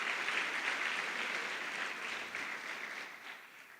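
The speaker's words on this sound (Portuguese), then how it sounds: "Para todos vocês, uma salva de palmas" A church congregation claps together in a dense, sustained round of applause that slowly thins and fades toward the close.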